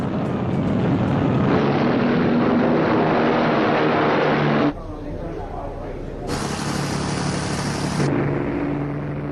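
British bomber planes of the Second World War, heading for the German industrial city of Essen in March 1943, make a loud, continuous engine drone that dips briefly midway and then returns at full strength.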